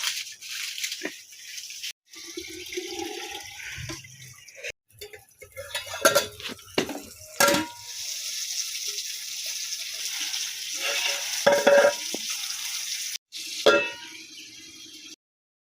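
Pointed gourd (potol) pieces fry in oil in a wok in a home kitchen, with a steady hiss and sizzle broken by clinks and scrapes of a utensil against the pan, and a few brief louder stirring clatters.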